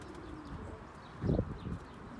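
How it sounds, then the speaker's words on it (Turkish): Pigeons settling into their coop give a soft, low cooing burst near the middle, faint and close, over a quiet outdoor background. "Evet şimdi yuvalarına girsin kuşlar."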